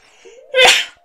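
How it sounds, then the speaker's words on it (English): A single loud, sharp human sneeze close to the microphone, with a brief inhale leading into the burst. "I just had to do my normal two sneezes"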